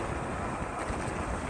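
Steady, loud wind rush buffets the microphone while riding an e-chopper style electric moped, a broadband roar with no voices and no engine note.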